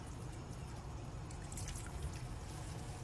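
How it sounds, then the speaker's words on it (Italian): Water is poured over risotto rice with a vegetable stock cube and saffron in a pot, making a faint, steady trickle and splash throughout. "Adesso vado a coprire tutto con l'acqua e porto ad ebollizione"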